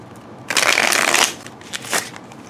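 Tarot cards riffle together in a quick burst, a short pause, then a second briefer shuffle, crisp and close.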